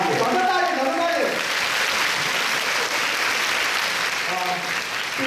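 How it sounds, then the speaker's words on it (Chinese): A room full of people at a lightning-talk session of a tech conference applauds loudly and continuously. A voice is briefly heard over the noise at the start and end. "掌声大一点，掌声大一点"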